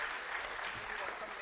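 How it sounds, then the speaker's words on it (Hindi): Applause from the audience at a university of health sciences convocation in Rohtak, a brief steady burst of many clapping hands heard at moderate distance. "I request everybody to please give loud round of applause"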